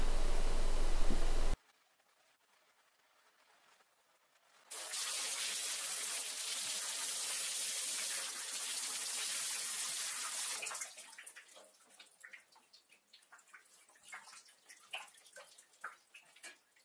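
Tap water gushes steadily over hair being washed with a massaging brush, a loud continuous rush that thins into scattered splashes and drips toward the end, with no voices.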